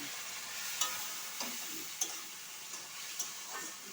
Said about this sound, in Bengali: আদা রসুন বাটাটা দিয়ে আমি একটুখানি কষাবো